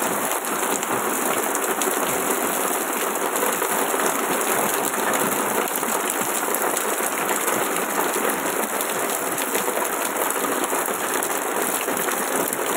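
Heavy rain pours down in a dense, constant hiss, loud and close, with no voices heard.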